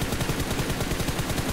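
Gunfire in PUBG Mobile, a rapid, loud burst of close shots hammering in a fast regular rhythm, alone without talk.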